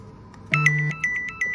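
A work phone in a hospital postpartum unit gives a short electronic ringtone, a low tone followed by a series of quick bright beeps, fairly close with no speech.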